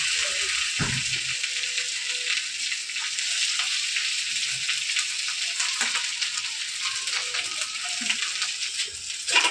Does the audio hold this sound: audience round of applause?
no